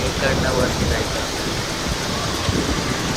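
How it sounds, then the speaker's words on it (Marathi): Continuous broadband roar of water being discharged over a dam, heard close and constant during heavy rain, with a faint voice briefly under it. "डॅम आहे, डॅमवरून पाण्याचा विसर्ग होतोय."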